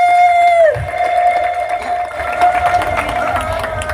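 A crowd at an outdoor campaign rally claps and cheers in a continuous hubbub, while a steady electronic tone and background voices sit under the applause.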